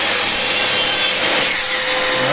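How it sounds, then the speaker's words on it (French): Miter saw cutting through a wooden baseboard, a loud, steady close-up whine of blade through wood running without a break. "tu prends ta scie à onglet"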